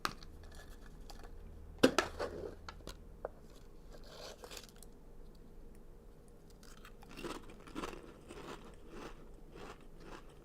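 Crunching on a four-cheese snack from a Japanese convenience store, a few loud crisp bites up close followed by quieter bursts of chewing against a near-silent background.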